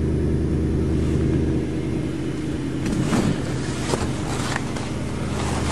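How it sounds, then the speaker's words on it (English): A car engine idles steadily after a cold winter start, a low continuous rumble with a faint ticking texture that holds throughout, with a few light knocks partway through. "Nice quiet tick-free motor."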